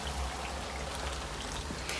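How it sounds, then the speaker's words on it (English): Boiling water is poured into a cooking pot in a home kitchen, making a steady, close pouring and splashing rush with no break and no talk over it. "So now at this point, I'm going to add some of my boiling water."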